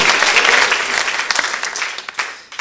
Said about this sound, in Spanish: Démosle un aplauso a nuestro Padre Celestial